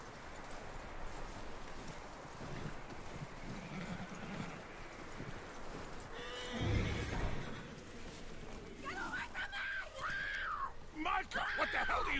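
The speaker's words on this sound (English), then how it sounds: "That looks like a decent horse." A horse neighs in the Red Dead Redemption video game on PS5, its whinny rising over a steady bed of outdoor ambience with a brief heavy thump midway, and people talking throughout.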